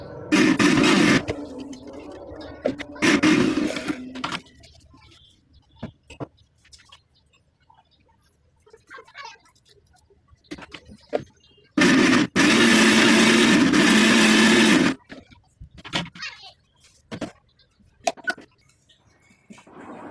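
A mixer grinder whirs loudly in three short bursts, blending a mint leaf paste with a little water, separated by quiet pauses with faint clinks and handling noises.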